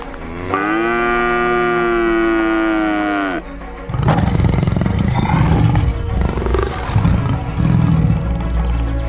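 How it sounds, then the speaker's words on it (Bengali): In a cartoon, a long, loud cow moo from one of three tethered cows comes first, then a tiger stalking them lets out rough, growling roars in rising and falling bursts. "মাধবী যেখানে তার কপিলাকে বেঁধে এসেছিল সেখানে একটা বাঘ গরু শিকার করার জন্য বাঁধা ওই তিনটে গরুর দিকে ধীরে ধীরে এগোচ্ছে।"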